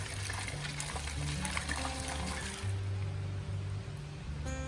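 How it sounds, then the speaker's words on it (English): Brine pours steadily into a bag holding a turkey, a continuous close splashing and trickling that thins out and stops near the end. "So you pour the brine in."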